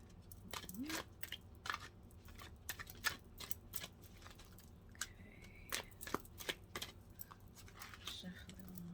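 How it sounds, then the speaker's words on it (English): Tarot cards being shuffled by hand during a reading, a quiet run of soft irregular riffling clicks and flicks close to the microphone with faint background hum, no talking. "Shuffle it one more time"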